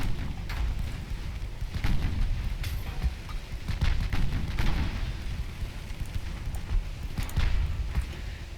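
Naval 6-inch guns fire repeatedly in a simulated warship battle, a string of dull booms and rumbling blasts spread unevenly over several seconds with no talking.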